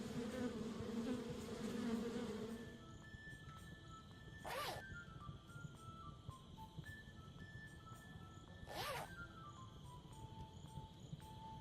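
A swarm of bees buzzes in a cartoon adventure game, Kelvin and the Infamous Machine, a dense droning hum that fades after a couple of seconds, leaving quieter insect buzzing under two sharp whooshing swells and faint chiming tones.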